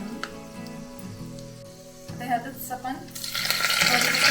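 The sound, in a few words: chillies frying in a pan for kanda poha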